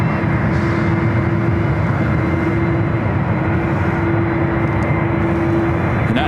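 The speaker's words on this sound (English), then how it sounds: "United 777 heading out to the 28s" A United Airlines Boeing 777-200ER jet taxis at San Francisco airport, producing a steady, fairly loud engine rumble with a sustained whining tone running through it, constant and without voices.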